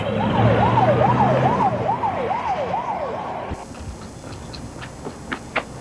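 An ambulance siren wailing in a fast rising-and-falling yelp as a rescue vehicle launches, loud and near, then cutting off to quieter road rumble and scattered clicks.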